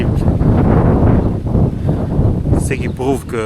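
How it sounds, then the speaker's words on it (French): Strong ocean wind on the Atlantic coast at Muanda, Kongo Central, buffets the microphone in a loud, continuous rumbling roar while someone talks over it. "il y a vraiment un vent là terrible."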